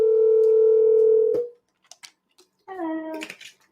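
A steady telephone tone rings for over a second on a live call-in show, cuts off abruptly, then after a few faint clicks a second, shorter tonal burst sounds, loud and clear with no talk over it.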